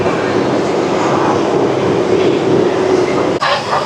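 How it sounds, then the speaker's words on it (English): Roller coaster train on the Wrath of Rakshasa at Six Flags Great America climbing its lift hill, a steady continuous mechanical rumble and rattle held at even loudness throughout, with a brief dip near the end. "And there goes up the lift hill."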